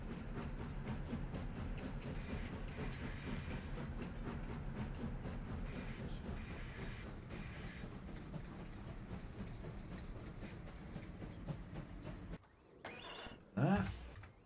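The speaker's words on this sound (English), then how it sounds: "we can pull forward the last of the wood planks train" Wood planks train pulling forward in Farming Simulator, a steady rumbling rattle with rhythmic clickety-clack of rail cars running continuously for about twelve seconds, then breaking into a few brief clunks near the end.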